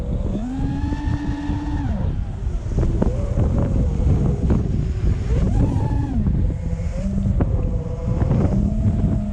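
Strong wind outdoors on a drone-flying day with rain approaching, a continuous heavy rumble buffeting the microphone, loud and close, with a motor whine rising and falling over it.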